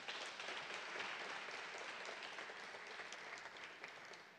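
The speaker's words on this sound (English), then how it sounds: "Give them a big round of applause." At an education awards ceremony, an audience gives a steady round of applause, an even wash of clapping heard from a distance and fairly faint.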